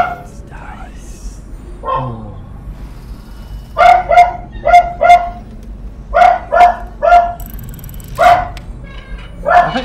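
A dog barks repeatedly nearby, loud sharp woofs arriving in quick pairs and short clusters, with some quieter whining and muffled sounds between the barks.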